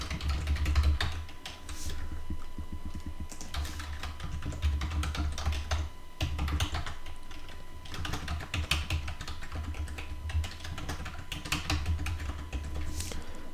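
Rapid, steady keystrokes on a computer keyboard as a vCenter username is entered, continuing close and clear for the whole stretch over a constant low hum, with no talking.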